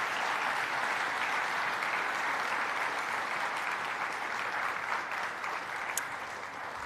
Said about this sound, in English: Now we can applaud for Team Rogers.